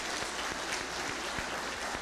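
Applause from an audience at a talk honoring a speaker, brisk steady clapping at moderate distance, fairly quiet and uniform throughout the short burst.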